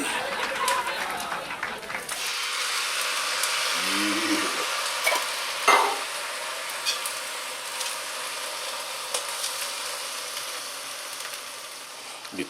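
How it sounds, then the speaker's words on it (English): Canned tomatoes dropped into a pot of sizzling chilli and stirred, a steady fry hiss with a soft wet plop and scraping stirs, close and continuous. "Let's put a can of these tomatoes in there."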